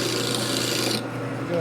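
A hand file rasps against a metal part for a 1941 Harley-Davidson WL 45 flathead stroker engine build, one steady close scraping stroke that stops abruptly near the end.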